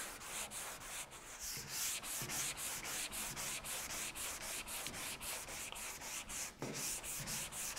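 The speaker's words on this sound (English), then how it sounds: "I'm going to be sanding with 320 with a block" Steady rasping strokes of 320-grit sandpaper on a hand block, worked across a panel in a crisscross pattern, with a regular back-and-forth rhythm that continues close and even throughout, with no voices.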